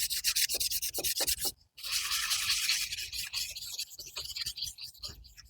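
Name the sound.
sanding the flywheel magnet of a Dolmar LT 250 trimmer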